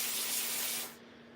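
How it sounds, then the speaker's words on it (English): A can of aerosol spray releases a steady, close, loud hiss for just under a second before cutting off, leaving faint room tone behind. "I think I'll just spray around there as well on the top."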